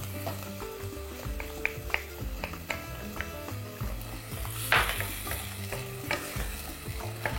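Steady sizzling of onion soup base frying in a pan with adjika, broken by repeated scraping and clinking as a utensil stirs, with a few louder knocks along the way.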